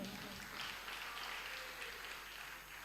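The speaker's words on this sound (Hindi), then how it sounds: "ऐसे ताली बजाओगे तो नहीं होने वाला, थोड़ा जोरदार बजाओ भाई।" An audience at a religious discourse claps softly. A faint, thin patter of applause continues steadily for a few seconds.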